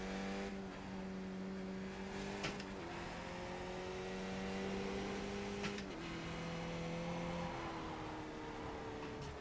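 A race car engine in Assetto Corsa Competizione drones at a steady pitch, with several distinct gear shifts that briefly cut and reset the tone. It stays continuous and close, with no voices.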